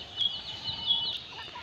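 Kadaknath chickens give soft, brief clucks and a few faint high calls. The sound is quiet and somewhat distant, over a low background hiss.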